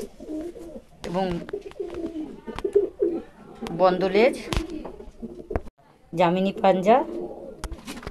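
Pigeon cooing close by, soft repeated coos under someone speaking steadily over it.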